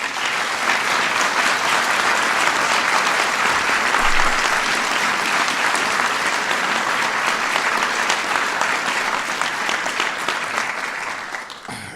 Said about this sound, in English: So give all of them a big round of applause.